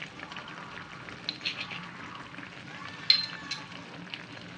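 Tomato paste frying and being stirred in a pan for a pizza sauce, a soft steady sizzle with scattered scraping stir strokes and a sharper clink near the middle, fairly quiet and close, with no talk.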